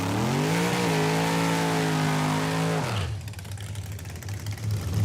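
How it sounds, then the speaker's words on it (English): Drag racing cars launch off the line at close range with no barrier, a loud sustained revving roar with rising engine tone that cuts off abruptly after about three seconds, leaving quieter rumbling and crowd noise. "I've never sat this close, no barrier, to the cars launching."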